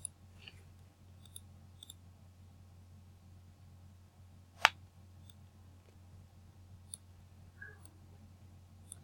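A single faint mouse click on a save button, heard once, small and crisp, over a low steady electrical hum in a quiet room.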